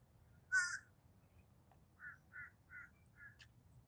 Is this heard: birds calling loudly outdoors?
yes